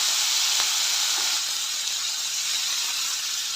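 Green chillies and tomatoes sizzle in a hot pan with turmeric, a steady broadband hiss of frying that holds loud and even throughout, with no talking over it.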